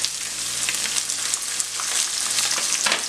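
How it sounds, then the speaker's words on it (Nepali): Ginger and green chili sizzle steadily in hot oil in a pan, a continuous close crackling fry for a sweet-and-spicy rhubarb pickle, with no one speaking. "अब यसलाई म एकछिन फ्राई गर्छु."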